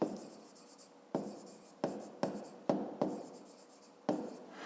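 Chalk or marker writing on a board during a fifth-grade maths lesson: a run of repeated scratchy strokes in short bursts, some sharp onsets, fairly close, with no talk.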